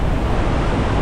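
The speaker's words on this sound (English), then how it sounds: "The water is rushing." Iguazu Falls roars as a dense, loud, continuous rush of falling water, a close and unbroken broadband wash.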